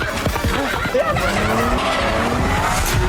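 A car tears into a horse racing ground with loud, sustained tire squeal and skidding over a roaring engine, the screech wavering and continuous for a few seconds.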